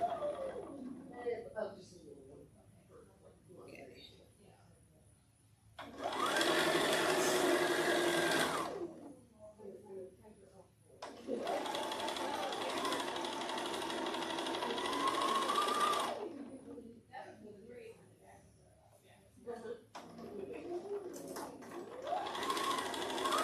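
A sewing machine stitches pre-cut 2.5 inch fabric squares for a fall pumpkin wall hanging, whirring in three loud sustained bursts with quieter speech in the pauses between runs.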